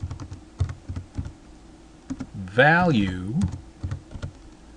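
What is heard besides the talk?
computer keyboard typing C++ code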